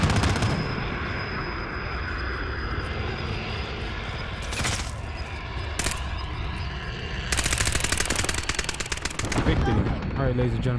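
Gunfire during an online multiplayer match of Call of Duty Modern Warfare Season 6: loud, continuous bursts of automatic fire with sharp bangs and rapid crackling volleys, plus a background rumble, running through the whole stretch.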